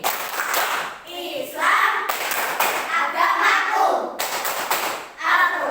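A classroom group claps a rhythmic clapping song for Islamic religious education lessons, steady hand claps in bursts mixed with children and a teacher chanting the lyrics together.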